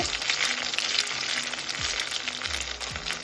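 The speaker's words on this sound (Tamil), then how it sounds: "இந்த எண்ணெயில் தான் நான் ரெண்டு கரண்டி மாவு விட போகிறேன்" Two ladles of dosa batter spreading in hot oil on a pan, giving a continuous bright sizzle with soft scraping sweeps of a ladle beneath it.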